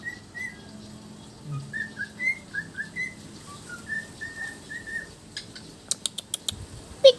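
A cocky, happy bird whistles a string of short rising and falling notes, steady and close, ending with a few sharp chirps.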